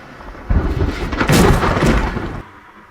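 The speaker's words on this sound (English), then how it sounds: "the rain is making so much noise" Rain and thunder from the film A Quiet Place: Day One: a heavy, dense downpour swells into a loud rumbling roar for about two seconds, then cuts off abruptly.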